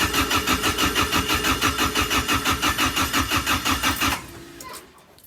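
The BEAMS-powered engine of a Toyota AE86 cranks without catching, a loud, close rhythmic starter churn repeating about four times a second for four seconds. It then stops abruptly into a faint tail.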